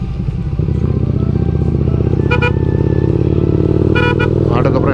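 Engine noise from an auto rickshaw approaching on a mountain road through tea estates, a steady loud motor drone with a couple of brief horn toots near the end.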